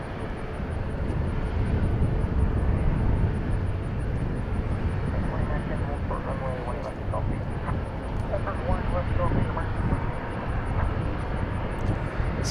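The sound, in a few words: British Airways aircraft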